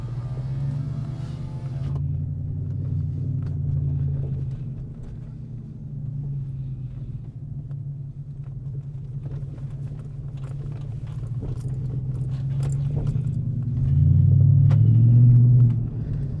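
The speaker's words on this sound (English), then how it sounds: "So initial thoughts are a nice deep V8 rumble" A deep, steady V8 engine rumble from an Audi RS5 with mufflers deleted idles low and loud throughout, swelling louder near the end as the throttle is blipped.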